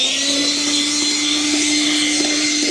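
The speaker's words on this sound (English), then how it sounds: "I'll just use my rigid blower." A Ridgid handheld blower runs continuously while clearing dirt off an outdoor RV rug at a campsite, a steady loud whine with a constant tonal hum and rushing air, alone without voices.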